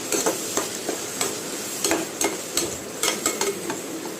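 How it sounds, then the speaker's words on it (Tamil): Onion, tomato and ginger garlic paste sautéing in oil in a pan, a soft steady sizzle broken by repeated sharp scrapes and taps of a spoon stirring, close and unhurried. "வெங்காயம் தக்காளி இஞ்சி பூண்டு பேஸ்ட்டு நல்லா போட்டு வதக்கியாச்சு"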